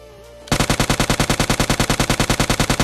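Sustained automatic gunfire in the mobile battle game PUBG Mobile Lite, a steady rapid stream of loud, evenly spaced shots that starts abruptly after a half-second of quiet game ambience.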